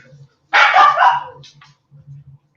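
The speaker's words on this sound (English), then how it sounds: "The dogs are barking." Dogs bark in a short loud burst lasting about a second, followed by a quieter yip, with faint low hum around it.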